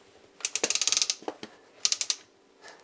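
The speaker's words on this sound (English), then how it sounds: "I'm going to grind it once just to clear the coarse out of the system" A GIVENEU conical steel burr grinder grinds coffee beans in two bursts of rapid, crisp crunching clicks, with a brief pause between them, heard up close and alone.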